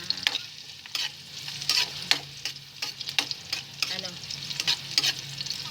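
Food frying in a pan for a cheap Filipino home-cooked dish is stirred with repeated scraping strokes over a steady sizzle, close and moderately loud, with a brief spoken word.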